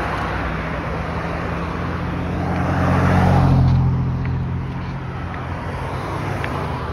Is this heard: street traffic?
yes